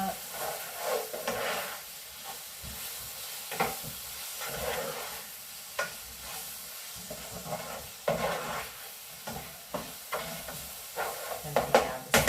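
Chicken and sautéed onions stirred in a sizzling pan, with a continuous frying hiss and irregular scraping and clacking strokes of the utensil against the pan, close up.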